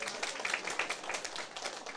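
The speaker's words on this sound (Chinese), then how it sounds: "啊，你免拍手呀！" An audience claps faintly during a lecture on Taiwan's government and international relations, a soft, dense patter of hands throughout, with speech nearby.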